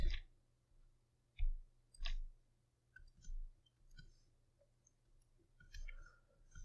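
Computer mouse clicks at a desk while editing an image in software: several short, sharp clicks spaced irregularly over a few seconds, close and fairly quiet against a low background hum, with soft breathy voice sounds in between.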